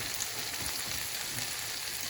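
French toast frying in an Anolon frying pan, a steady soft sizzle and crackle that holds evenly throughout, close and fairly quiet with no talking.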